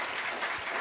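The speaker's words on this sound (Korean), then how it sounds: "감사의 그리고 격려의 박수 한번 보내주시기를 바랍니다" Brief burst of church congregation applause for a worship team after a late-night Friday prayer service, dense steady clapping from many hands filling the room.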